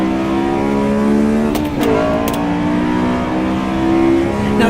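A Honda S2000 engine in Assetto Corsa EVO revs high and steady, a loud sustained whine that dips briefly with a quick shift blip before climbing again, heard alone without talk.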